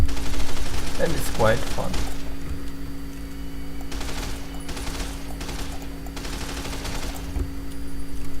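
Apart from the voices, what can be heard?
full-auto converted weapon firing in Fallout: New Vegas video game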